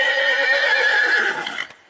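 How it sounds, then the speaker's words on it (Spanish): Horse neighing in the video game Fortnite: a single loud, close whinny with a shrill, wavering tone, trailing off into a brief quieter snort, with no talking. "Arre caballo."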